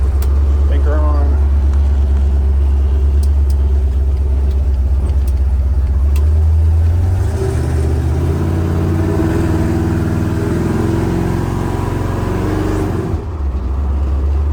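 Truck engine running while driving, a loud, low steady drone from inside the cab that shifts in pitch partway through, with a voice talking over it.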